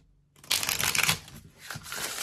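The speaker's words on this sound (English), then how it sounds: "first I'm gonna see how it shuffles" A deck of thin, flexible tarot cards is shuffled up close, making a crisp fluttering riffle that lasts about a second, followed by softer card handling and brief rustles.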